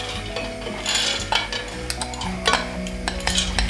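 Vegetables are tipped into a frying pan of hot oil and stirred while cooking a shrimp pasta salad. Utensils clink and scrape against the pan over a soft sizzle, in close, uneven bursts without speech.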